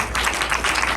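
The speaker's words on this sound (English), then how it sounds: "Let's please give him a round of applause." Audience applause in a theater after a director's talk: a dense, steady wash of many hands clapping at close range, with no pauses across the short stretch.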